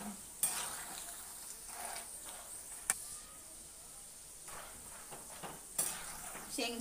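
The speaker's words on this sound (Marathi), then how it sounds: "शेंगदाणे भाजते वेळी आपण याच्यामध्ये थोडंसं मीठ घालायचं" Peanuts roasting with salt in a little oil in a pan, quiet crackling sizzle with soft stirring scrapes and a few sharp metallic clinks of a spoon against the pan.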